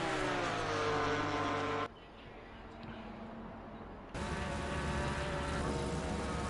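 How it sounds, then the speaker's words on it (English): Race cars, a Porsche GT4 and a Ginetta, roar along the Monza straight in Assetto Corsa Competizione, a loud steady engine drone that briefly drops in level before surging back at full volume. "The Porsche GT4 not the fastest in the straight line, the Ginetta even slower"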